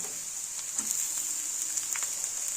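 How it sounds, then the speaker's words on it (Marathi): Chopped onion and capsicum sauté in a pan for Mumbai street-style masala pav, giving a steady bright sizzle with occasional soft stirring scrapes and no voices. "कांदा आपल्याला गुलाबी रंगावर परतून घ्यायचा आहे। मग ढबू मिरची घालूया।"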